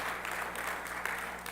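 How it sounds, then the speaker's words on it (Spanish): Church congregation applauding during a Spanish-language sermon, a soft, diffuse wash of many hands clapping at a distance, steady and even over a low hum. "Yo creo que Dios se merece un aplauso."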